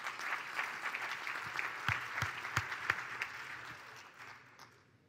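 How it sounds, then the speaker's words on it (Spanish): A live audience at a regional business event in Araucanía, Chile applauds steadily with distinct sharp claps, then thins out and fades away toward the end. "Así que un aplauso para Juan Pablo."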